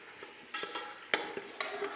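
Green chili paste and peas cooking in a pot for palak rice, giving a steady low sizzle and bubbling with a few scraping stirs and clinks of a utensil, no talk.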